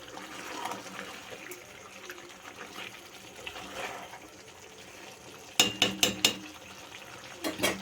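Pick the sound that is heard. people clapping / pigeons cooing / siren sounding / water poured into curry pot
water poured into curry pot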